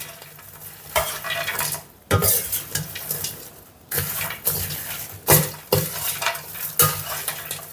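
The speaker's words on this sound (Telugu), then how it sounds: "ఇప్పుడు ఈ పోపు బెండకాయకు పట్టేలాగా కలుపుకుందాం." Bursts of stirring in a pan, a spatula scraping and tossing okra fry with tempering at irregular intervals over a soft background sizzle, close up with no talking.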